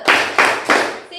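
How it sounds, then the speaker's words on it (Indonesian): A class plays a clapping game, giving three loud, distinct claps in quick succession, close to the listener, each with a sharp attack and short decay. "Tepuk single, tepuk double, tepuk triple,"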